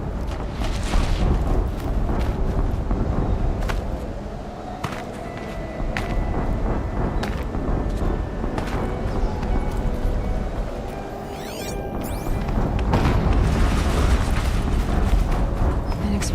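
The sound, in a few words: explosion in the video game Horizon Zero Dawn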